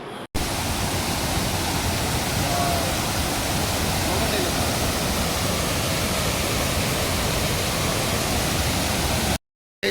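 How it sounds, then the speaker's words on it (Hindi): A waterfall in Kullu spills down from above with a dense, constant roar of rushing water that stays loud and even from start to finish before cutting off abruptly. "बहुत ही बढ़िया झरना है जो ऊपर से निकलता हुआ आ रहा है"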